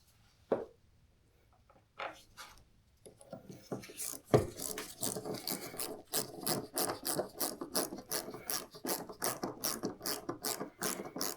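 A YakAttack anchor trolley part is screwed in by hand, producing a fast, close, rhythmic ratcheting click that repeats steadily for several seconds. It follows a few scattered knocks and handling noises at the start.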